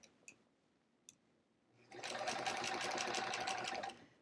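A sewing machine runs steadily for about two seconds while quilting a large quilt, after a couple of faint clicks, with a dense close mechanical whir and no talk.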